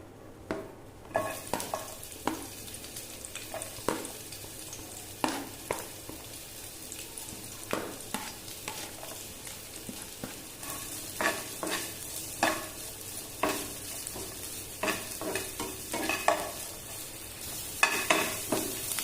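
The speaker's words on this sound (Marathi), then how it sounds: "तर हे आता मी वाटण भाजून घेते." A ground paste of fresh coconut, garlic, ginger and onion roasts in a pan, with a steady sizzle under repeated close scraping stirs that come in irregular bursts throughout.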